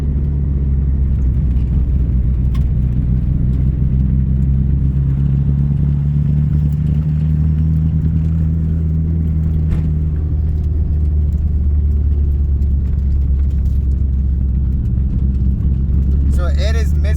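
A car engine runs rough and misfires at idle, the whole car shaking, a loud continuous low rumble with uneven pulsing throughout.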